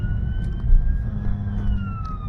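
A wailing ambulance siren sweeps slowly up and down at a steady distance, continuous through the clip over a low rumble of background noise with no voices.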